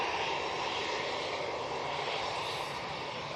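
An EasyJet Airbus A320-200 departing for Belfast gives a steady, fairly distant jet engine roar, broad and even throughout, with no voices.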